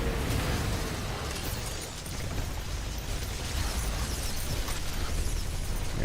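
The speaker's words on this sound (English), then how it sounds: "The artillery's coming in from around, just generally." Artillery fire and explosions in a swamp-themed strategy video game, a dense, continuous roar of booms and bursts packed with mechanical clatter, loud throughout with no talking.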